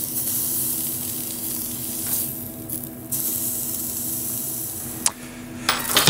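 Sous-vide cooked meat searing in a very hot pan, a loud continuous spitting sizzle with hissing bursts and a couple of clinks of a pan or utensil.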